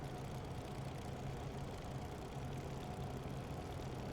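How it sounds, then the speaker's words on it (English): A Grumman Hellcat aircraft engine idles steadily at a distance, a continuous low rumble with an even pulsing throb and no voices over it. "That nice engine sound of the Hellcat."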